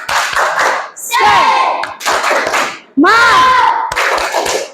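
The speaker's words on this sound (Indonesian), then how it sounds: "Kita tepuk semangat ya" A standing primary school class performs a rhythmic spirit clap, loud group claps in patterned bursts mixed with children's shouted chanting, close and energetic.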